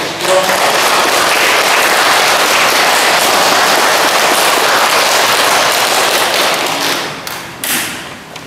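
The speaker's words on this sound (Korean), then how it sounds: "박수 한번" An audience in a Catholic church applauds during a parish Bible lecture, giving dense, loud, sustained clapping that tapers off near the end with a few scattered final claps.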